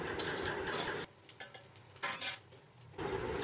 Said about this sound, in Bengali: আলুর সাথে পেঁয়াজ আর লঙ্কাটাকে ভালো করে মিশিয়ে নিচ্ছি।